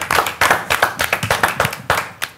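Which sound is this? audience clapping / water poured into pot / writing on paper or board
audience clapping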